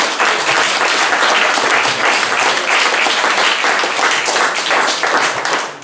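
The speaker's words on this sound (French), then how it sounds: "On peut les applaudir." An audience claps steadily and loudly, a dense wash of applause from many hands that holds strong throughout before easing slightly at the end.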